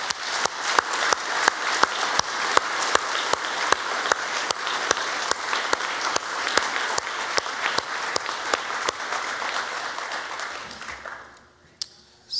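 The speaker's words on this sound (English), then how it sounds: "give all the first responders in this province a big round of applause" A convocation audience at the NSCC Annapolis Valley Campus applauds first responders, with steady dense clapping from a large crowd that carries on for several seconds before fading out abruptly.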